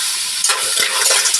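Mussels sautéing and being stirred in a hot pan for a Filipino garlic-sautéed mussel dish, a steady loud sizzle broken by a few scraping stirs and clacks of shells.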